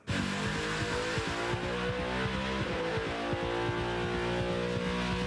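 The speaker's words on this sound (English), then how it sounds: "Oh, is this our first listen to the engine?" A Red Bull Le Mans race car engine roars loud and close, a continuous high-pitched drone with stepped pitch changes and rapid pulsing, heard alone.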